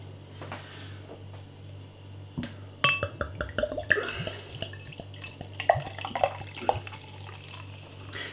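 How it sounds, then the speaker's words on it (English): Siren Craft Brew bourbon barrel aged beer being poured vigorously into a glass, starting with a sharp clink, then splashing, glugging liquid and fizzing with scattered drips and taps, over a low steady hum. "Beer in the glass then."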